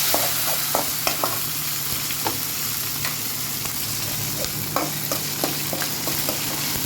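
Ivy gourd pieces and green chillies fry in a pan with curry leaves and asafoetida, a constant close sizzle broken by frequent light clicks and scrapes of stirring.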